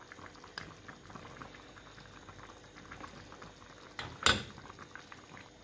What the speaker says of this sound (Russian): суп у нас закипел